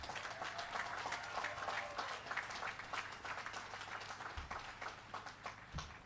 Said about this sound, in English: Please, let's give a round of applause to our outstanding staff here in the Brentwood School